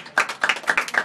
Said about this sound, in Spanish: Un aplauso para Gabo.